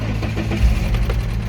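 A BMW E30 with a swapped M52 engine starts and runs roughly nearby, a low uneven rumble with slight knocking pulses, loud and alone.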